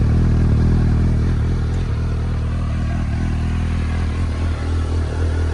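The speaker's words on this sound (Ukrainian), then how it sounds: "Подивіться, який вихлоп." A loud, close engine rumbles steadily with a deep throbbing exhaust note, continuous throughout with no talking.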